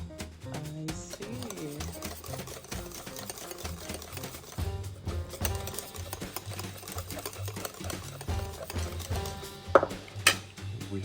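Breakfast batter is mixed in a bowl at home, with rhythmic clinking and scraping of a utensil against the bowl, close and fairly quiet, joined by a few sharper knocks near the end.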